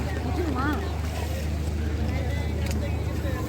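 A fishing boat arrives at Vizhinjam harbour, its low engine drone steady and close under wind buffeting, with brief voices in the background.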